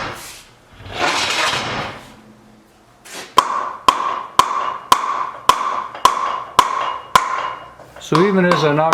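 A hammer strikes a wooden wagon wheel about eight times in a steady rhythm, knocking a felloe off short spoke tenons. The sharp ringing knocks are loud and close, with a voice talking before and after them.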